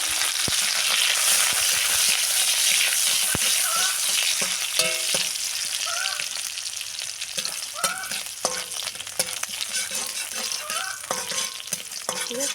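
Chopped onion sizzling in hot oil with panch phoron and dried chilli, a steady loud frying hiss with scattered crackles and occasional spoon scrapes and stirring clatter throughout, no talking.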